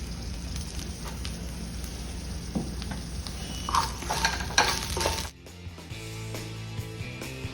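Green chillies, tamarind and fenugreek leaves frying in a pan, a continuous close sizzle with scraping stir strokes and clinks, ending abruptly in a quieter stretch with faint background hum.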